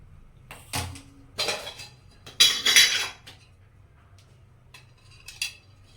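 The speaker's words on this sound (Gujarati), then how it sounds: "ચલો, ગેસ ચાલુ કરી કઢાઈ મૂકીશું." A metal kadhai being set on a gas stove in a home kitchen, several separate close metallic clanks and scrapes with quiet gaps in between.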